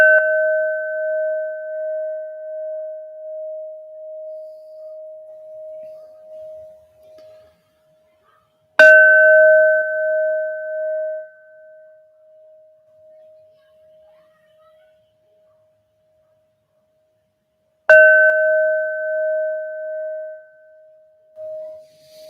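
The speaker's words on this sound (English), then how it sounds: "So let's give Neptune his bells" Three clear bell strikes spaced about nine seconds apart, each a bright ringing tone that decays slowly into silence before the next strike.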